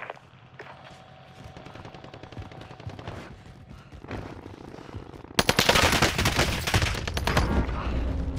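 Gunfire in Call of Duty: Modern Warfare: rapid automatic bursts and scattered shots, building from moderate to loud and dense sustained firing in the latter part.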